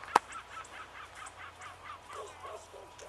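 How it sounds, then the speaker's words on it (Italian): A flock of birds at a lagoon calling noisily, repeated caws from a distance in uneven rhythm, with a sharp click near the start. "Guardateli quanti uccelli! Ammazza che caciarò!"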